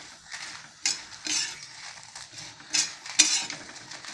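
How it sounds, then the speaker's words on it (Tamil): Tamarind and dried chillies dry-roasting in a pan produce quiet, intermittent scraping and rattling as a spoon stirs them, in short bursts separated by near silence. "இந்த மாதிரி கொஞ்சம் டார்க்கு ப்ரௌனாக இருக்கிற வரைக்கும் வறுத்துக்கணும்."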